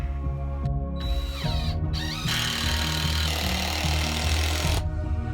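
A power drill drives long screws into stacked wood pieces while preparing an old ceiling, steady loud whirring with a couple of brief pauses and pitch changes as each screw bites in.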